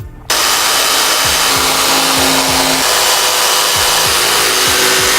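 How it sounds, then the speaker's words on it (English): Power saw cutting through a wall board for van insulation, a loud continuous whine with a rhythmic rasp of the blade working through the board, close up with no voices. "I'm going to start cutting now."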